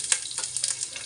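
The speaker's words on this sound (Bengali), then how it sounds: "পেঁয়াজ ভাজা হয়ে গেছে" Onions sizzle in hot oil in a kadai with cloves, cumin and a little garam masala, giving a steady, close frying hiss with a few brief stirring bursts over about a second.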